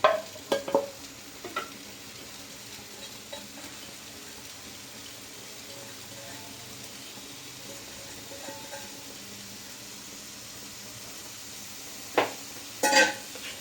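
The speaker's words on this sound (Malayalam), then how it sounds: "അപ്പോൾ അതിലേക്ക് വേണ്ട തേങ്ങ നമുക്ക് ആദ്യം വറുത്തെടുക്കാം" Grated coconut dry-roasting in a pan, with soft stirring scrapes across a quiet steady background and a few louder clinks and scrapes near the start and end; no one speaks.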